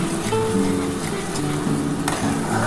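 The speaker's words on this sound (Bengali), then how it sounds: "এই যে মশলার জলটা বন্ধুরা আমি দিয়ে দিচ্ছি। এই মশলার জলটার সাথে আরেকটু কষাতে হবে" Spice water goes into frying pabda fish curry made with mustard and poppy seed, raising a loud, continuous close sizzle that hisses without pause, with a faint tonal hum underneath and no talking.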